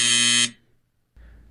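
A loud, harsh game-show buzzer sounds once for a wrong answer, holding steady for about half a second before cutting off. A low rumbling noise follows.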